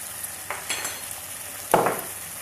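Black beans cook with smoky beef in a pan, giving a low steady sizzle broken by a few scrapes of stirring and one sharper burst of frying noise, with no one speaking.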